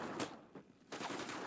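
Gunfire in Batman: Arkham Asylum, a few sharp bursts of shots with a pause between them, fairly loud and close in the game mix.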